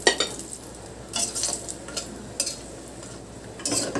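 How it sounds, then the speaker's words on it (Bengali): Six bori, lentil dumplings, fry in hot oil as a steady sizzle runs underneath, broken by several sharp bursts of stirring and the scrape of a utensil against the pan. "বড়িগুলো ভেজে নিচ্ছি।"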